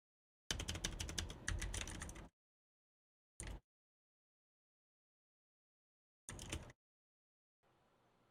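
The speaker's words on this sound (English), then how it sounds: "Let's do a quick typing test." Typing on a computer keyboard, picked up by a Maono HD300T dynamic microphone, comes through as faint, short bursts of key clicks separated by silent gaps.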